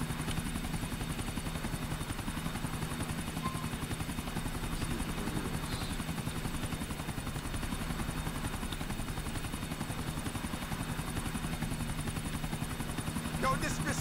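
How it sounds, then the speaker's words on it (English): A helicopter in the video game GTA IV gives off a steady, loud rotor drone with a fast, even chop. It runs unbroken throughout, and a voice is faintly present under it. "I have the feeling you don't want to be responsible for a helicopter crash in Middle Park."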